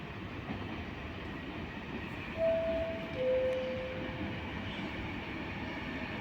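Trenitalia regional train departing platform 9 at Padova station, a steady low rumble of rolling stock with faint high wheel squeals rising briefly midway, fairly distant and even throughout.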